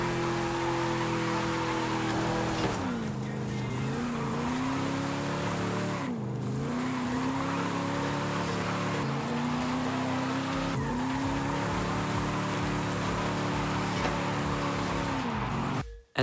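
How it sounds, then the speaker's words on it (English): A Chevrolet Chevelle drifts in Forza Horizon 5, its engine note repeatedly dipping and climbing through several slides while tires squeal continuously. The sound is loud and sustained, then cuts off abruptly at the end. "Just look how smooth this Chevelle can drift."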